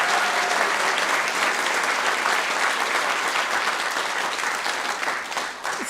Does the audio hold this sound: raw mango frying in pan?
no